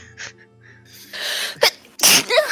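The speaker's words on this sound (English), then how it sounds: "Bless you." A person sneezes close by in a school classroom setting: a quick sharp inhale followed by a loud, explosive burst, after a stretch of quiet background.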